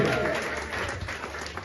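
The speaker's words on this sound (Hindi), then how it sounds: "आपकी मीठी मीठी तालियों में जरा जोर होना चाहिए" Steady applause from an audience at an open-mic poetry performance in Mandsaur, a dense patter of many hands clapping at once that fades slightly toward the end.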